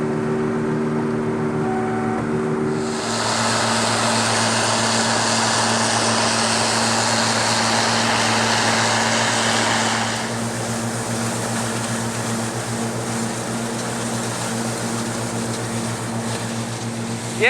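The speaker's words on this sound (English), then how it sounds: "I'm riding on the back of the combine while my brother's cutting to get y'all some good shots" A combine harvester cuts soybeans in the field, its engine and threshing machinery making a loud, steady drone heard up close from the back of the machine, with a broad rushing roar that eases partway through.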